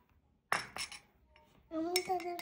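A metal spoon clinks against a cup while stirring Saudi gawa coffee: one bright strike, then quieter ringing taps with a sustained metallic tone near the end, faint and close.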